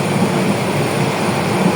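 A train rolls across the Bhairab railway bridge over the Meghna River, giving a steady, loud rumble with constant broadband noise and no distinct clacks, close and continuous throughout.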